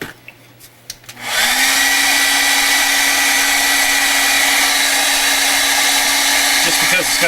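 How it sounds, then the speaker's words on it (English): A hair dryer switches on after a few quiet taps and blows a loud, steady, close whirring roar to dry wet paint on an art journal page, with no one speaking. "So I may want to dry this as I go."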